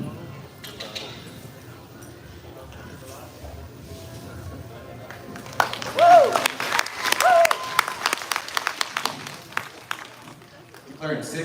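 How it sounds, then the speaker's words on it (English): An audience claps at the final round of a colt starting competition, the applause swelling partway through and then fading into scattered claps, with a voice talking over it. "Hey, you can clap."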